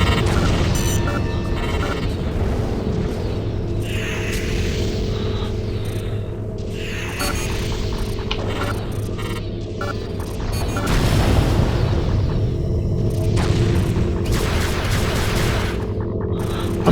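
Shivan bombs detonate in FreeSpace 2 space combat as a steady, loud rumbling roar with repeated booming blasts and a surge near the end, layered over continuous engine hum.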